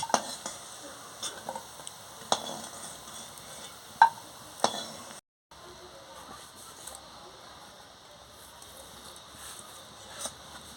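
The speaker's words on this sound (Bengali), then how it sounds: "এবার আমি সোয়াবিনগুলোকে ভেজে নিচ্ছি দেখুন বন্ধুরা সোয়াবিনটাকে কি সুন্দর ভেজে নিচ্ছি" Soybean chunks fry quietly in a pan, giving a soft low sizzle with a few sharp stirring clinks and scrapes and a brief gap midway; no talking.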